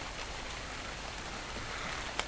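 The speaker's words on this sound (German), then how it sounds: "Warum regnet das eigentlich schon wieder?" In the video game Dark and Light, rain falls steadily as a soft, even hiss of drops with a brief sharper tick near the end and no talking.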